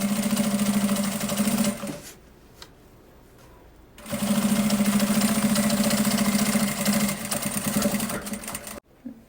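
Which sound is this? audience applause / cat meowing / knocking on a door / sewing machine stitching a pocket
sewing machine stitching a pocket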